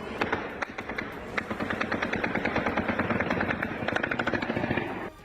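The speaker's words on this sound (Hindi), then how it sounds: "तभी गोलियों की गूंज ने लोगों की नींद हराम कर दी।" Gunfire echoing at night in Kabul: dense bursts of rapid automatic shots, loud and reverberant, rattling almost continuously with short gaps, no voices.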